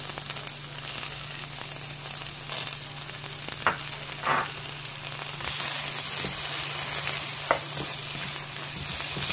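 Cauliflower rice with fresh grated ginger sizzles steadily in a pan, broken by a few scraping stirs of the spoon, close and moderately loud with no talking.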